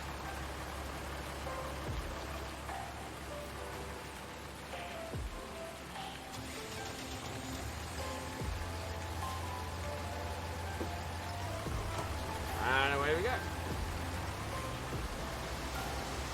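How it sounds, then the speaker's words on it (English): Steady rain hisses throughout in Farming Simulator 19, a constant dense wash with low rumble beneath, while a voice speaks briefly over it. "It's going to rain the whole way through this."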